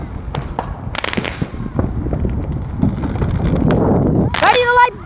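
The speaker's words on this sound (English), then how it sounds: "Look at the neighbor's fireworks." Neighborhood Fourth of July fireworks burst and crackle in a series of sharp pops, with a dense flurry of crackling near the end, while wind rumbles on the microphone and a person exclaims and talks throughout.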